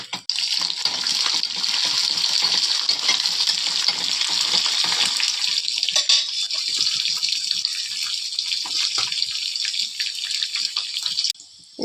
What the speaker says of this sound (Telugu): ఇంకా అయితే పోపు గింజలు వేసుకుంటున్నాను